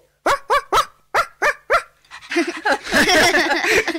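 A dog barks six times in a quick, evenly spaced series, close and loud, then whines and yelps in a noisier, overlapping burst.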